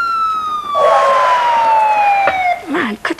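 A person imitates a siren with their voice, one long descending wail that fades into a warbling tail, followed by short vocal bursts.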